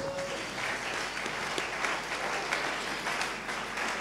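A church congregation applauding and cheering for Jesus during a French-language sermon, a steady, dense roar of clapping that holds evenly throughout.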